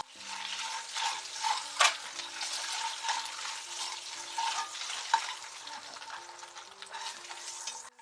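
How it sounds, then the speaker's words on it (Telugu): Eggs fry in oil with a pinch of turmeric for an egg and tomato curry, giving a soft, continuous sizzle broken by light stirring scrapes and a couple of sharp clicks. "గుడ్లు అయితే వేయించేస్తాను"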